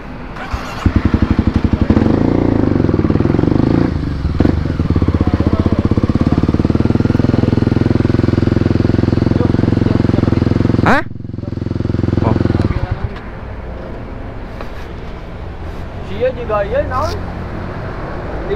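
A small 250cc motorcycle engine runs close by, a steady loud drone with revving that swells, drops sharply near the middle, then picks back up, while people talk over it.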